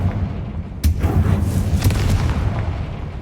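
A Confringo fire spell explosion in the video game Hogwarts Legacy: a sharp, loud blast that booms and rumbles on with a lingering low roar, followed by smaller bursts.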